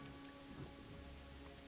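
Steady rain falling in the video game Pathfinder: Wrath of the Righteous, a constant soft hiss with no talk over it.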